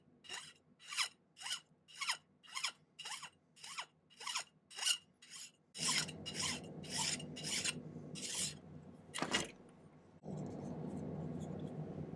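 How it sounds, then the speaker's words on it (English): A hand file works burrs off a silver key pendant: about a dozen crisp, rhythmic rasping strokes close by, then denser scraping over a low rumbling background and a final stretch of steady noise. "Remove any little burrs that are left on there."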